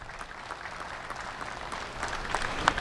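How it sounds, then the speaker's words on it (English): A crowd claps for cow exhibitors in a dairy show ring, steady applause at moderate distance, holding level before swelling slightly near the end. "Let's give these exhibitors a great round of applause."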